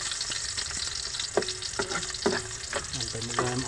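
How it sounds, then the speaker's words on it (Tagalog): Onions sauté in a hot pan, the first step of a Filipino mung bean stew with squash flowers. A loud, constant sizzle fills the clip, broken by intermittent scraping stirs and clinks from a utensil against the pan. "Magigisa na po tayo. Unahin na po natin itong sibuyas, si Bombay."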